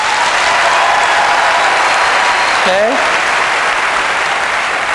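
Keynote audience applauding on cue, a dense, loud, steady wash of clapping from a large crowd that continues throughout, with a single short spoken word partway through.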